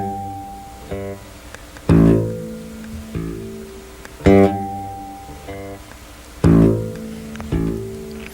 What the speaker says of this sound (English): I try to make it sound like this: alternate loud and soft at first.